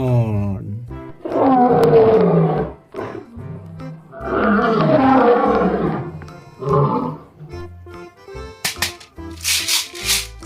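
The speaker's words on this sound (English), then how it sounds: "lion." A lion roars twice in long, powerful, loud bursts, then gives a shorter growl, followed by a few brief tonal sounds.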